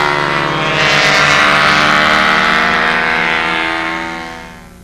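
Two radio-controlled warbird model airplanes fly past at a fly-in, their propeller engines a loud steady drone with layered harmonic whine that swells and then fades as they pull away.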